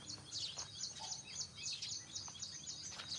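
Many sparrows chirp rapidly and continuously, close and busy, over a low background hum.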